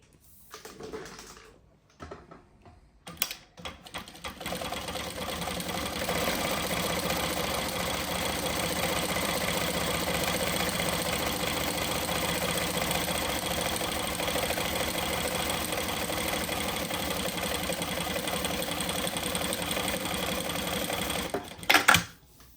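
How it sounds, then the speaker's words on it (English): A Jack H6 industrial sewing machine runs a decorative pattern stitch, a steady fast mechanical whir and clatter lasting close to twenty seconds after a few short starting bursts, with no talking. "And now I'll show you how machine do decorative stitch."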